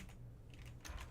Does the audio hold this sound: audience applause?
no